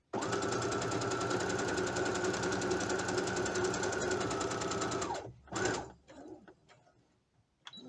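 A sewing machine stitches heavy fabric for a pair of shorts in one steady close run of about five seconds, then slows and stops, followed by a short burst and faint handling.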